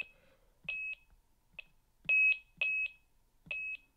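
Electronic chess set (Karpov Chess School Millennium model) beeping at its highest sound setting: a series of sharp, high electronic beeps, singles and quick doubles, repeating alone at irregular intervals, clear and close.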